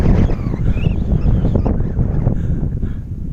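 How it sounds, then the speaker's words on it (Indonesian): Strong wind roars across the summit of Mount Coppo Tille, buffeting the microphone in a loud, continuous gusting rumble with no voices. "Kalau berkemah di sini, kemahnya hancur dibawa terbang angin."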